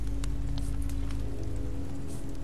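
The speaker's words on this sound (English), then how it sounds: "This rain will turn to sleet, then ice, then snow." Steady rain falling in a wintry scene from The Walking Dead Season Two video game, a continuous even hiss with scattered drop patter and a low droning hum underneath, no voices.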